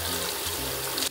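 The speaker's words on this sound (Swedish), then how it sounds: "Jag tappar upp ett bad och ni får se min badritual." A bathtub filling from the tap, with steady, loud water rushing in close by and no voices.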